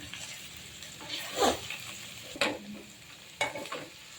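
A spatula stirs fried onion and tomato with turmeric in a pan, giving three distinct scraping sweeps with soft sizzling in between, quiet and close.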